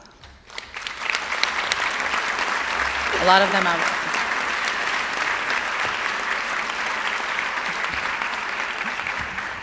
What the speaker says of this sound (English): can you please stand quickly to get a round of applause?